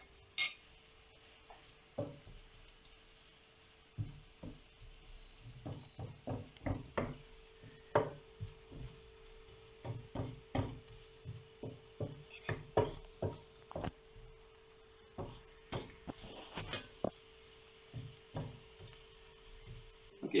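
Spices and onions being stirred in a pan for steak curry, with scattered scraping and knocking of a utensil against the pan over a faint sizzle, in short irregular bursts.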